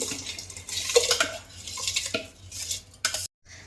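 Uncooked rice pours and rattles into a metal pressure cooker pot, a run of dry scraping, clinking kitchen sounds up close, ending abruptly.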